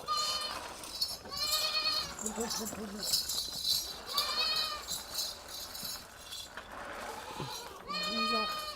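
Goats on a farm bleating repeatedly while eating fodder, several loud nearby bleats over rustling and munching.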